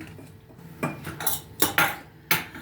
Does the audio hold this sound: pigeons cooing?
no